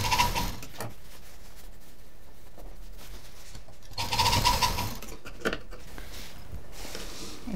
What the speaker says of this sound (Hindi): और यहाँ पर मशीन चला देंगे।